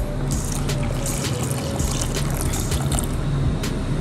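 Water poured into a pot of fideo noodle soup with potatoes, a steady close splashing and trickling that runs evenly throughout with no voices.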